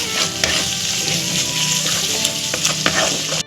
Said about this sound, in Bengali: এই পেঁয়াজ আদা রসুনটাকে আমি ভালো করে কষাবো একটু ঢাকা দিয়ে